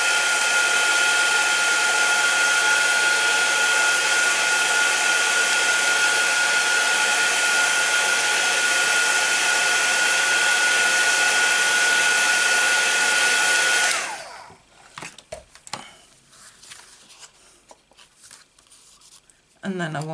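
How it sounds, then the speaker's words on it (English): A heat gun blows over Stampin' Up papercraft to dry it, a loud, steady roar close by that runs for about fourteen seconds and then cuts off, leaving faint handling noises. "dry this with the heat gun."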